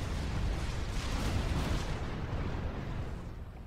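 A commander unit's bomb detonating in the real-time strategy game Supreme Commander 2, heard as a loud, sustained rumbling blast that fills the whole stretch and slowly fades toward the end, with no talking.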